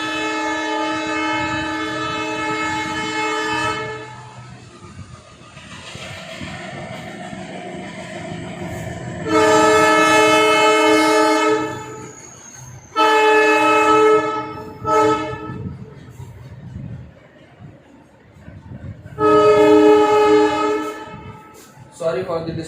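Trains pass near a railway station during the lockdown, with loud, sustained horn blasts sounding in three long bursts over a steady rumble of rolling stock and railway noise.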